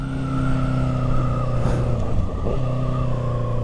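A 2022 Honda CR 650 R motorcycle with an Atalla 4-into-1 stainless steel 304 exhaust runs loud and close, its engine droning steadily with a rising rev surge near the middle.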